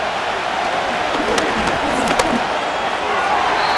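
A broad, steady roar of stadium crowd noise fills an NFL football game in Madden NFL 25, loud and constant with a few sharp cheers and claps poking through.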